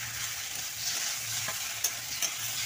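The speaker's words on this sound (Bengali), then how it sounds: "দিয়ে একসঙ্গে নেড়ে নেব" Fried ash gourd pieces are stirred together with fried onions in oil. A continuous close sizzle carries soft, steady stirring scrapes and a couple of light taps of the spoon.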